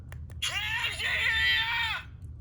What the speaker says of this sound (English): Jersey Shore, Pauly D pin, he screams at you